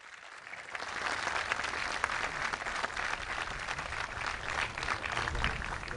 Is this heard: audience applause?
yes